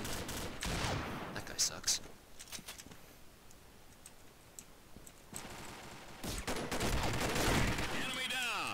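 Bursts of rapid gunfire from the online shooter game Combat Arms, dense and loud at the start and again toward the end, with a quieter stretch between and someone speaking briefly over it.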